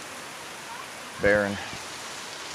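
Steady rain from the outer bands of Hurricane Dorian falls in Summerville, South Carolina, a soft continuous hiss throughout, broken briefly by a single spoken word.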